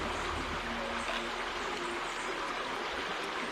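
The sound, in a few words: washing octopus with salt and water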